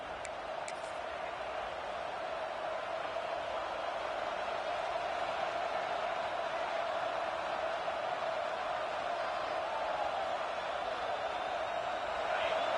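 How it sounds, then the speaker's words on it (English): Stadium crowd roaring in College Football 26 during Clemson Tigers versus Georgia Bulldogs, a sustained loud, steady wash of cheering that swells slightly at the end, with a voice talking over it. "The roar of the crowd trying to fuel this defense to keep them pinned in their own end"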